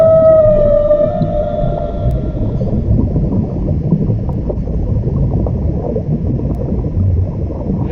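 Whale song, a long tonal moan with layered harmonics that slides and fades within the first few seconds, followed by steady low underwater rumble and gurgling.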